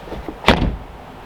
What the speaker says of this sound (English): If I close the door,